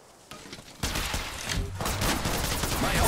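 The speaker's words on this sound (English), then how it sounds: "The enemies are shooting at me." Sustained automatic gunfire from enemy players in Apex Legends Mobile, rapid overlapping shots building into a dense, loud fusillade after a quieter opening, with no talk.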